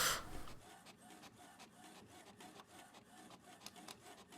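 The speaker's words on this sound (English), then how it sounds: "Oh, they're printing it off." Printer printing out a star, a fast mechanical whirring and rasping feed with rhythmic clicks, quiet and steady after a brief louder burst at the start.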